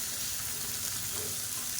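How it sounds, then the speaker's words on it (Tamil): Small onions and green chillies sautéing in oil in a pan for chutney, a steady soft sizzle that stays even and close for the whole stretch, with no voices. "இந்த வெங்காயம் நல்லா வதங்கட்டும்."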